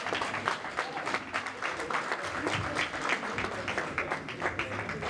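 Sustained applause from a crowd at a Congolese youth party in Baltimore, steady dense clapping with faint voices mixed in, welcoming a speaker to the front.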